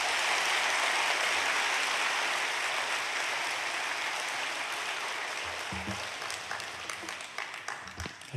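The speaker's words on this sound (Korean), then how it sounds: "우리 강사 선교사님 앞으로 모실 때 크게 환영의 박수로 모시겠습니다." A church congregation applauds to welcome a missionary speaker at a revival service, with steady, dense clapping that stays moderately loud and gradually thins into scattered, separate claps toward the end.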